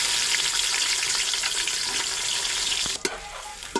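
Onions dropped into a cooking pot in a village kitchen, giving a steady broad sizzle and scraping stir, then a couple of sharp clinks near the end.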